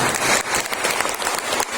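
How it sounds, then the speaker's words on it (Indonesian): A community gathering in an Indonesian neighbourhood breaks into loud, close applause, many hands clapping densely and evenly for the whole short stretch. "Jadi tepuk tangan untuk Kelurahan Bantuas."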